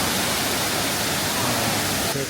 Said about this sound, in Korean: 폭포가 지금 내려오는 게 엄청 크고 되게 시원한 소리를 내면서 이렇게 내려오고 있어서